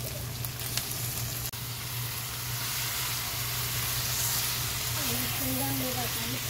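Chicken pieces with ginger-garlic paste frying in a hot pan, a steady broadband sizzle and hiss running throughout at close range, with a faint low hum underneath.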